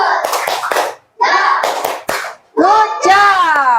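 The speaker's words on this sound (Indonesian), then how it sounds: "Ya, beri tepuk tangan buat kelompok 3." Schoolchildren in a classroom clap for a student group, loud bursts of hand claps mixed with children's chanting and shouting voices, coming in three short waves with brief gaps between.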